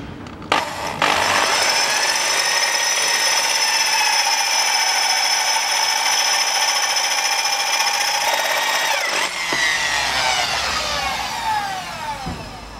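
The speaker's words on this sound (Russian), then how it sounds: "вот сейчас уже четверкой сверлю" A power drill with a 4 mm bit bores into the turbine of a Land Rover Discovery 3 under the vehicle, giving a steady high whine that runs for about nine seconds, stops abruptly, then winds down.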